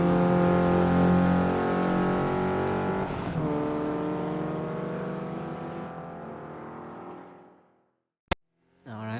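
Mitsubishi Lancer Evolution engine in the Assetto Corsa racing game, a loud steady drone holding for several seconds, then easing and fading to near silence, with a brief sharp click and a short final burst of engine noise.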